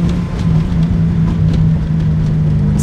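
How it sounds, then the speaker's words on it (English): A car engine drones steadily with an uneven, wavering rev, loud and close, with no voices. "it literally just like did some weird revving thing"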